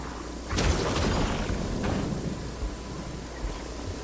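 A sharp crack of a lightning strike in Genshin Impact breaks into a broad rolling rumble of thunder that lingers and slowly fades, loud and close with no speech.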